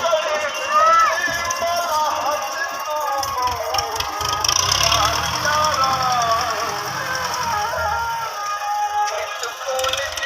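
A tractor engine runs steadily while a trolley is loaded, a rough continuous rumble with clattering mechanical noise throughout, loud and close, with a voice talking over it.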